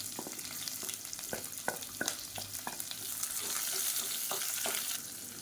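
Sliced onion, a handful of mint leaves and whole spices fry in a pan with a soft, continuous sizzle, punctuated by light scraping stirs that grow a little denser toward the end; fairly quiet and close.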